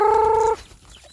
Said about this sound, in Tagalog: Patakuain ko na yung mga manok ko guys